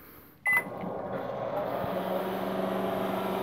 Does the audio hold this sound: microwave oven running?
yes